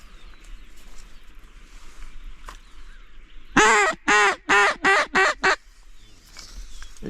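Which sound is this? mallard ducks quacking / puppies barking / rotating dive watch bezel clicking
mallard ducks quacking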